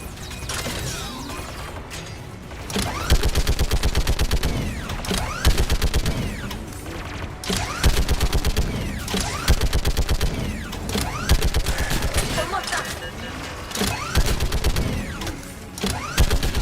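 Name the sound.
machine gun fire in the video game Mass Effect 3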